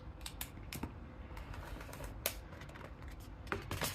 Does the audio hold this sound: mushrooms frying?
no